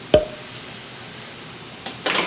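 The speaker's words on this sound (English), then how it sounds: "I can actually hear that it starts sizzling in the oven as well" A vegetarian baked ziti with cheese sizzles in the oven; a sharp metallic clank of bakeware comes first, then a soft, faint hiss that briefly grows louder at the end.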